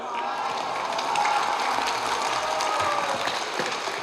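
Audience applause for Dr. H. Ruslan Wahhab at the close of a religious lecture: steady, dense clapping from a crowd that fills the whole span at an even level, with no words spoken.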